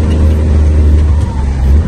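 A heavily loaded truck carrying crates of mangoes drives along, its engine producing a loud, steady low rumble with road noise that holds throughout, close by and without pause.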